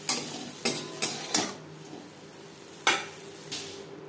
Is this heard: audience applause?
no